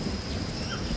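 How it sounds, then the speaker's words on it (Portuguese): Heavy rain pours down in the Amazon rainforest, a dense, steady hiss of downpour filling the whole moment with no voices. "formam-se as nuvens pesadas, anunciando o início das chuvas fortes"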